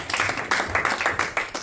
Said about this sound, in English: Can you give a round of applause, please?